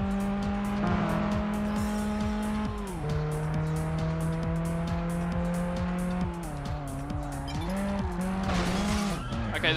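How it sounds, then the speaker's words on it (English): A Noble car engine in the racing game Test Drive Unlimited revs hard, its pitch dropping and climbing through gear changes, with tire squeal and loud, close engine noise. "I can hear the Noble catching up."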